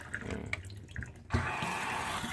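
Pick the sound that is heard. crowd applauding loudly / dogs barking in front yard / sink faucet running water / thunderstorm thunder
sink faucet running water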